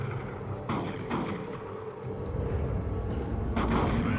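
Weapon volley fire in the strategy game Dawn of War 2, with several sharp booming shots popping over a dense background of battle noise and rumble at moderate loudness.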